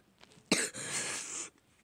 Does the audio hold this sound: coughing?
yes